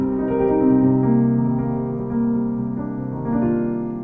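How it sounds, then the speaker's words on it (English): A minor 7 chord rings out as sustained tones, steady and fairly loud, with a few notes shifting and restruck across the passage and no talking. "Number 3 is going to be the minor 7 chord."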